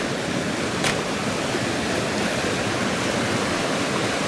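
A stream rushes steadily through a ravine (quebrada), giving a dense, continuous, close-up wash of flowing water with no voices.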